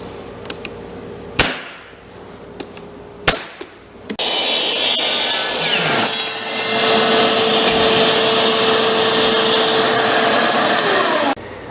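A power saw cuts a piece of 3/8 inch OSB spacer for a country cottage style coffee table, with a few sharp knocks first and then a loud, sustained whining cut lasting several seconds, close by.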